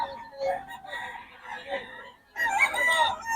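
Roosters crow among chickens offered for sale at a poultry stand, with a loud burst near the end and people talking over the birds.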